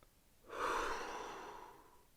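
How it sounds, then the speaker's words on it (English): A single slow, deep breath drawn during a mindfulness exercise, a soft airy rush that swells and fades over about a second and a half, close and quiet with no talking. "Breathe in."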